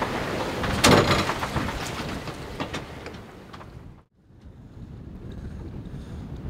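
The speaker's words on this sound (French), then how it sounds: "Là c'est un peu molli, il y a 18 nœuds de vent" Wind rushes steadily over a sailboat at sea in about 18 knots of breeze, a broadband whoosh with a louder gust early on and a brief lull before the steady rush resumes, no voices.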